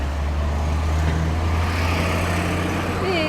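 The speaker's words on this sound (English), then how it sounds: "Big truck. Oh, not super big, but loud." A big truck rolls past nearby, a loud steady engine and tyre roar that stays strong throughout, with a rising whine near the end.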